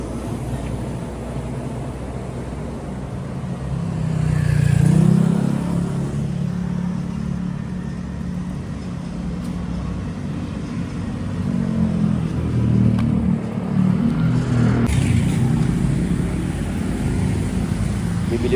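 Cars drive past on a city street, a continuous low traffic rumble with a louder swell as one passes, heard from a roadside spot.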